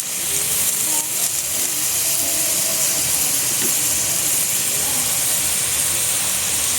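Beef cubes seasoned with crushed pepper and MSG sizzle steadily in oil in a pot while cooking for bulalo, a constant close hiss with no pauses and no voices.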